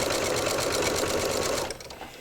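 A sewing machine stitches scrap fabric with a loud, close, steady motor whirr and needle rattle that slows and eases off near the end.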